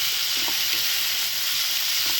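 Tomato curry with tamarind leaves and broad beans being stirred in a pan, giving a steady sizzling hiss with a few soft scraping strokes of the spoon and no voices.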